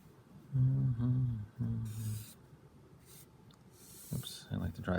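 A pen scratches across paper in short strokes while a maths lesson on similar triangles is being drawn out, with a person talking over much of it.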